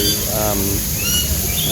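Birds call and chirp inside a wildlife sanctuary aviary, several overlapping tweets over a dense, loud bed of continuous background noise.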